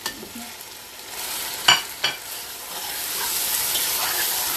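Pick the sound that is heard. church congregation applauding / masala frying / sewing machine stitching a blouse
masala frying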